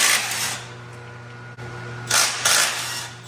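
An impact tool busts a nut on the oil cooler housing of a QSX15 diesel engine, running with a loud buzzing whir, briefly cutting out, then firing two more short, louder bursts.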